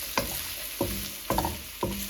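Okra frying on medium heat with onion, a soft steady sizzle broken by four evenly spaced scraping stirs, close and fairly quiet.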